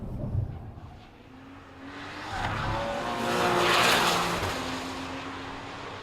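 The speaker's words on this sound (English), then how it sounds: "this car has sort of a quality where the tires are just sort of tapping along the ground" A 2014 Porsche Cayman S, a mid-engine car, corners on the road with its engine note rising and tires chattering and squealing lightly along the tarmac, building in loudness over several seconds without talking.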